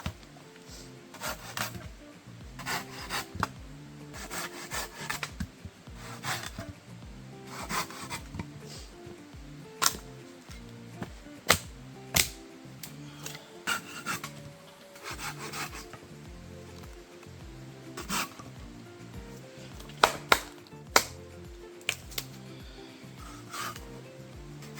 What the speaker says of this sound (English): we got our wood chopped up